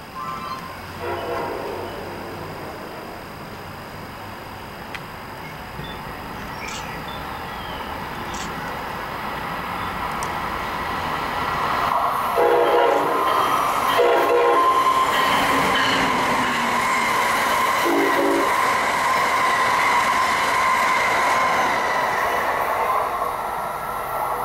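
A northbound Amtrak or MARC regional train led by locomotive 660 rumbles past at close range, a steady broad roar that swells midway with squealing wheels and faint rhythmic clatter, no voices over it.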